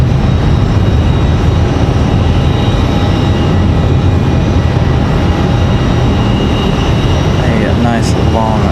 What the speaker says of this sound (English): Alaska about to touch down here.